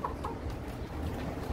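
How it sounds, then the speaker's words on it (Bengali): Large hill chickens on a farm, a couple of soft clucks in the first moments over a faint low background, quiet and close. "পাহাড়ি মোরগ। এটা অনেক বড় একটা মোরগ।"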